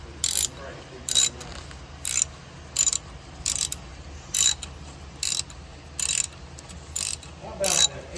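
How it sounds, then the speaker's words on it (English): A ratchet clicks in about a dozen regular, evenly spaced bursts while tightening a bolt on a tensioner bracket under a vehicle, close and clear against a low background hum. "I'm just gonna get up underneath there and tighten it down"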